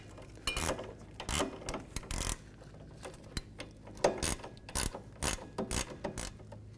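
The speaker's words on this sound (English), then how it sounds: "use a ratcheting wrench" A ratcheting wrench tightens a front sway bar link on a 2008-2012 Ford Escape, making quick, close, clicking ratchet strokes in short rhythmic bursts with brief pauses between them and no talking.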